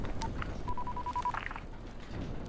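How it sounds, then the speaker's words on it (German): Telephone keypad tones beep in the video game Dying Light, a single tone followed by a quick, evenly spaced run of dialing beeps, clear and close over a low ambient background. "Telefonieren wir mal eine Runde."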